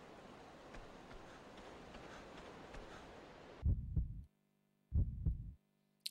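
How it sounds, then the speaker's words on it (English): Heartbeat effect in the video game Resident Evil Outbreak, first a dull steady hum, then deep paired thumps that stop, pause and return, low, close and isolated. "I hear my heartbeat every time I walk into a new area."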